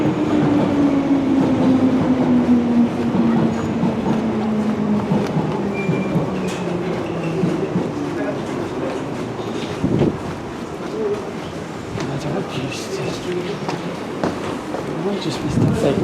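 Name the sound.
London Underground train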